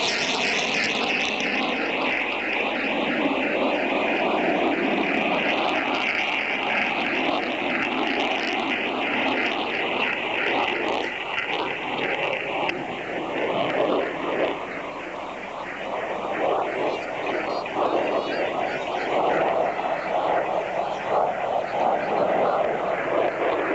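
An F-14 Tomcat jet fighter at an air show flies a 360-degree level turn with its wings swept fully aft, heard as a continuous broad jet roar that holds steady and strong throughout, with no talk.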